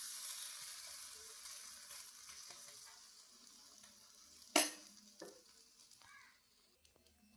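Semolina buns with carrot and curry leaves sizzle softly in a pan after being flipped, a faint, steady frying hiss broken by a sharp clatter midway and a few small knocks, with no talking.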